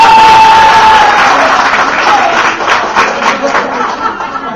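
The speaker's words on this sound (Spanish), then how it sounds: "fuerte el aplauso también" Graduation audience at a beauty academy ceremony applauding the school director, steady broadband clapping filling the hall with scattered cheers and chatter mixed in, fading slightly toward the end.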